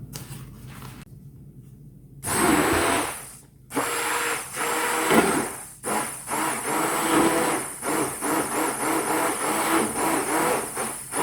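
A blender whirs loudly through a sweet Thai rice-flour dessert mixture, starting after a short quiet lead-in, with steady motor drone broken by a few brief pauses and pitch shifts, close and alone without talk.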